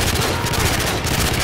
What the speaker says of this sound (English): He's like pointing the gun at them and start shooting.